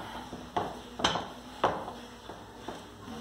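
A big pot of chicken coxinha dough being stirred by hand over a wood-fired stove gives a handful of soft, irregular knocks and scrapes, fairly faint and spaced about half a second apart.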